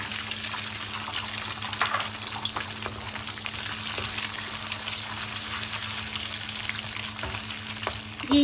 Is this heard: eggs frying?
yes